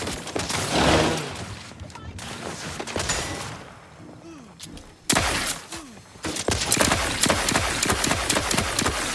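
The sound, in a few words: gunfire in The Outer Worlds 2 video game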